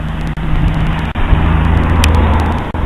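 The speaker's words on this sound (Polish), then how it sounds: "Przepraszam, te samochody jeżdżą" Cars drive past outside on a street, a loud continuous engine and tyre rush close by with a few brief dips between passing vehicles.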